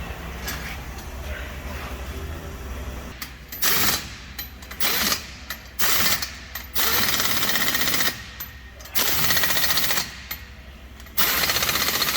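An impact wrench or ratchet tightens lug nuts as a wheel goes onto a Chevy 3500 truck, loud rattling bursts of one to two seconds repeating with short pauses in a garage.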